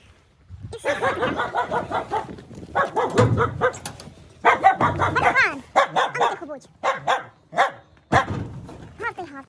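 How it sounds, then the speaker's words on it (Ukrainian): A dog barks in repeated bursts close by, with someone talking between and over the barks. "Чого ти гавкаєш?"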